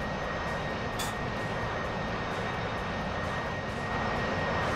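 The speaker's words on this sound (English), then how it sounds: "I'm trying to take off without the catapult." Steady, loud aircraft engine roar from a jet on a carrier deck in DCS World, throttled up for a takeoff attempt without the catapult; a continuous broadband rumble with a brief brighter hiss early on, no voices.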